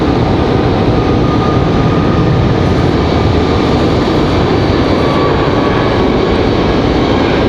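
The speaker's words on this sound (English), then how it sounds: "Sounds like we got a Southwest departure." Southwest Airlines airliner departing Raleigh-Durham International Airport, a loud, sustained broadband jet engine roar that fills the whole stretch without letup, heard alone with no talking.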